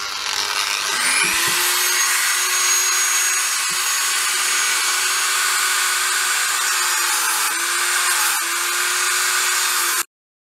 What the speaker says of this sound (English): I'm just gonna use my Dremel tool to cut the holes.